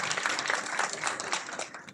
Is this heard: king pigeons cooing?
no